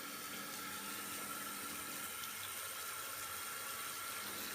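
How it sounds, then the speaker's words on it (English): Bathtub tap pouring steadily into a filling tub, a constant bright hiss and splash that stays even from start to finish, with no voices. "We'll close the drain and turn on the water."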